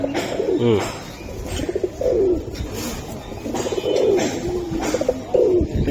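Kaldam pigeons, a Bangladeshi high-flyer breed, give repeated close, throaty coos in short bursts with brief pauses between them, clear and fairly loud.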